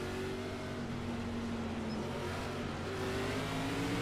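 Stock car engines drone steadily as the field gets under way at the start of an iRacing NASCAR Class B race on a hot, slick track, a continuous close, even roar with a slight rise in intensity near the end.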